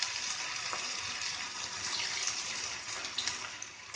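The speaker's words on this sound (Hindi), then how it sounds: "अब हम इसमें मंचूरियन बॉल डाल देंगे। इसको हमने डीप फ्राई करना है अच्छे से ब्राउन कलर आने तक।" Veg Manchurian balls deep fry in hot oil with a steady, close, bubbling sizzle that hisses continuously, with a few small pops and crackles over the frying.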